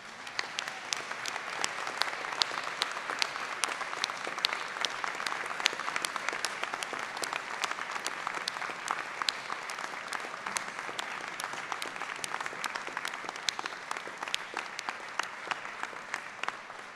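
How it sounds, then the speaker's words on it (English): A graduation audience for a university School of Education PGCE ceremony claps steadily and warmly for the whole stretch, a dense sustained round of applause filling the hall with no break. "give them an enormous round of applause"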